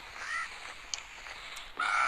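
Crow caws from the survival video game Survivalcraft 2 in hardcore mode, two rasping calls at the start and end of a quiet stretch, heard faintly without speech.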